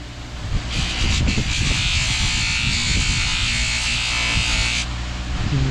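A fine buffing wheel loaded with polishing compound polishes bolts from a 1974 Honda XL250 motorcycle, giving a steady high whine for about four seconds over a low motor rumble, close to the microphone.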